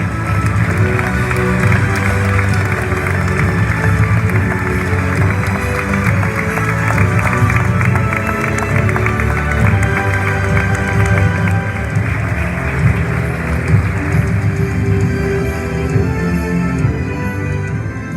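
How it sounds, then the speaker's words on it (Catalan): Steady, dense applause from a crowd at a People's Party list presentation in Torrent's old market hall, continuous and loud throughout without pause. "Aplaudiments"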